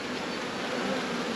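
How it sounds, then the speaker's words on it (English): Honey bees buzzing steadily on a hive frame during a hive inspection, a dense continuous hum close by with no voices over it. "the bees are milling around"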